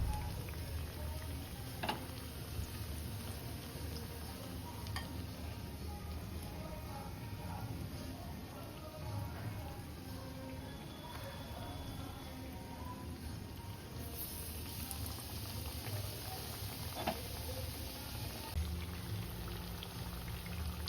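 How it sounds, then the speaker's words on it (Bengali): Bread sandwich chop dipped in gram-flour batter crackles and sizzles in hot oil, a steady dense frying hiss with scattered bubbling pops throughout, close and continuous with no talking. "এবার ব্যাটারে চুবিয়ে গরম তেলের উপর দিয়ে দিলাম।"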